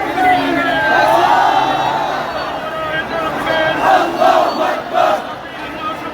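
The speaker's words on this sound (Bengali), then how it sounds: "মার্চ পর গাজার পথে লাখো মুসলিম জনতা এই মুহূর্তে বিভিন্ন স্লোগান দিয়ে যাচ্ছেন" A huge crowd of Muslim marchers at a March for Gaza rally in Bangladesh chants slogans in a loud, continuous roar of massed voices rising and falling together.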